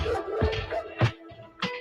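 A dog gives several short barks and yips in quick succession, fairly close and loud, with a whimpering edge between them.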